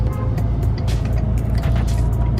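Bentley Continental GT engine running smoothly while the car waits at a traffic light, a steady low rumble with faint road noise and no talking.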